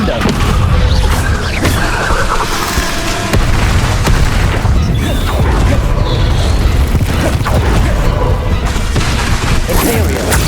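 Descendo spell impacts in Hogwarts Legacy combat, loud heavy booms and crashing bursts stacking over dense, continuous battle noise with no pause.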